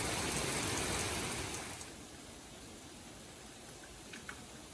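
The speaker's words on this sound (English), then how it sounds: "Raining out the back door too" Steady rain hisses loudly at first, then softens to a quieter, even patter with a few scattered drips.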